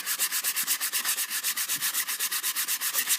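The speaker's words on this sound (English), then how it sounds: "It turns the sandpaper pink after you do it for so long." Sandpaper rubs rapidly back and forth over the plastic body of a Nerf Mega Magnus blaster, a close, even rasping rhythm of about seven strokes per second, running steadily with no talk.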